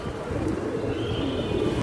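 Giribaj pigeons coo softly at a crowded bird market, low murmuring calls blending with steady background bustle.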